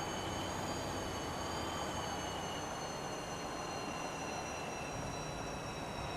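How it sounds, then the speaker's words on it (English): A tram rolls through a busy tram district in the Bus Simulator 21 game, producing a steady rumbling rail drone with faint high wheel whine, continuous and fairly quiet throughout. "Yeah, this is a heavy tram area, isn't it, this?"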